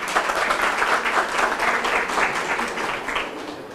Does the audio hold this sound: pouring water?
no